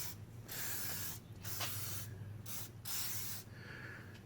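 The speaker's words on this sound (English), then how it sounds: "Some WD-40 is good enough" Several short hissing bursts of WD-40 aerosol spray onto a vehicle's front springs, close and fairly loud, separated by brief pauses, over a low steady hum.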